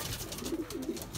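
Pigeons coo softly inside a loft built from baskets, a string of low, rounded coos repeating close by with no voices.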